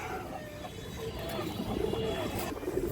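Soft, low cooing of high-flying Indian pigeons, the Kaldam breed, repeating in short murmuring phrases close by against a steady background hum, with faint chirps mixed in.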